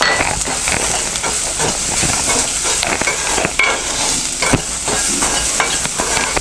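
Onions frying in a pan with salt, chili powder, turmeric and other spices for a banana tomato curry, a steady close sizzle with stirring scrapes and occasional clicks throughout.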